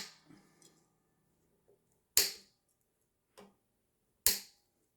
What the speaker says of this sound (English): Cut off the strings.